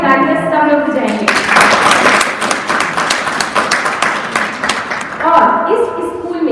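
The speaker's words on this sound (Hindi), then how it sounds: "आपके लिए बहुत बड़ी तालियां सब लोग बजाएंगे।" A school audience at a Women's Day celebration breaks into applause, a dense burst of clapping between stretches of a speaker's voice, the voice heard before and again after the clapping.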